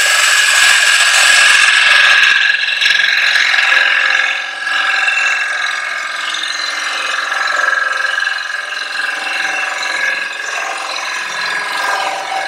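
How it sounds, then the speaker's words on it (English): Spindle gouge cutting across and hollowing a wooden box base, a loud continuous ratcheting, chattering scrape with steady tonal whine, running close and unbroken for the whole stretch with no talk. "Along here with a spindle gouge, cut across here."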